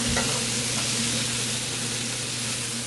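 Ground beef hamburger with sausage frying for chocolate-tequila chili, a loud, continuous sizzle close up in the pan, steady throughout with no talking.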